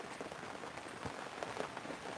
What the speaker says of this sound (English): Yeah, it's definitely raining out here.